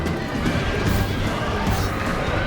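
Horses cry out during a Rome: Total War cavalry clash between Carthage and Macedon, with short whinnies buried in a steady roar of battle and crashing impacts.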